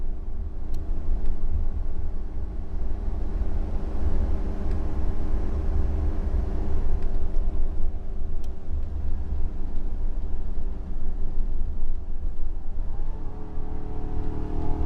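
A Ford V10 engine in a 30-foot Allegro motorhome, pulling a loaded trailer, drones steadily and loudly while climbing Baker Grade at highway speed, with road noise beneath and a shift in engine pitch near the end.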